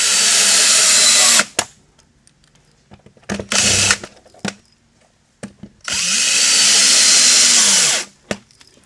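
A power drill drives 1 3/4-inch screws into equalizer slides on a five-legged standard table, loud whirring bursts: a long run, two short ones, then another long steady run, with sharp clicks between.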